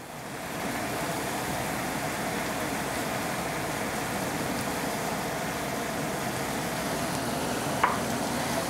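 Gai lan stir-fried with mushrooms and sesame oil in a pan, giving a steady, moderately loud sizzle with a soft crackle throughout and one brief clink near the end.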